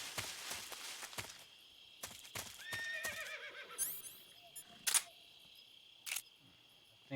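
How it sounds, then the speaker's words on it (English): A horse in a video game whinnies, with clip-clop hoofbeats and sharp clicks scattered through a quiet scene, the neigh fairly faint amid other game sounds. "I think I hear a horse."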